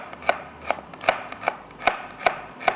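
Onions being chopped on a board, with seven crisp, evenly spaced knife strikes close up in a quiet kitchen and no voices.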